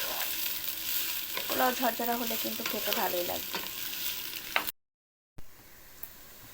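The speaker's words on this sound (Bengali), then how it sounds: "পোলাও চালটা এখন খুব সুন্দর করে ভেজে নিতে হবে" Basmati pulao rice fries in ghee in a pan for a basanti pulao, a steady close sizzle with stirring scrapes while someone talks over it, then a brief cut to silence before the sizzle resumes more quietly.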